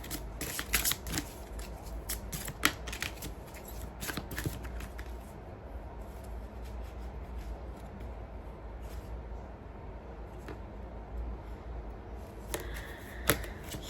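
Oracle cards shuffled by hand close up, a steady papery riffling and flicking that runs continuously with sharper slaps at the start and a couple of louder taps near the end, no talking.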